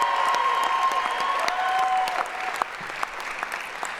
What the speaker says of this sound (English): Can we get a round of applause for Dr. Adam Henry, our incredible Executive Director of Student Success?